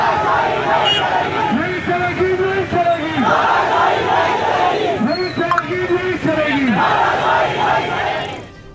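A large street crowd chants pro-Aurangzeb slogans in rhythmic unison, repeated call-like phrases rising and falling in waves, loud and close, with general crowd noise beneath.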